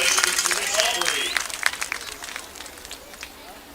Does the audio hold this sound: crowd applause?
yes